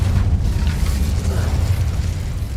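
Incendio fire spell cast in Hogwarts Legacy, a sustained roaring whoosh of flame with a low rumbling body, loud and steady for a couple of seconds with no talking.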